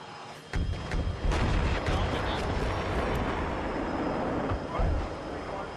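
Incoming fire in the tank simulator Steel Beasts Pro: a dense, rumbling barrage with several sharp impacts and booms over continuous low engine-like noise, with a voice talking over it.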